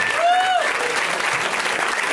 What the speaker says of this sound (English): Summon them with your applause